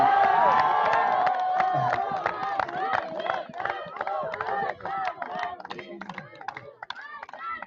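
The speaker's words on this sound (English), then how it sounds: "Big round of applause from the students of Segmol for Acho Stanzin Nurbu" Students at a university convocation applaud and cheer, a dense spread of clapping with shouts rising over it, loud at first and then thinning into scattered, uneven claps.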